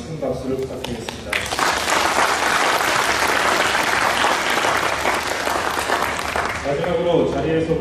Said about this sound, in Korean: 이번 희망의 말씀 주신 회장님께 다시 한번 큰 박수를 부탁드리겠습니다.